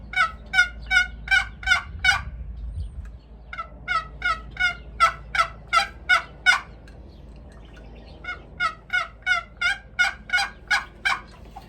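A wild turkey gobbler calls in three loud, close runs of rhythmic, evenly spaced notes separated by short pauses, with no talking.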